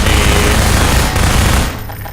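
Dense, continuous video-game gunfire from Half-Life 2 weapons (9mm pistol, Magnum, SMG), loud and rapid like sustained automatic fire for well over a second before cutting off to quiet.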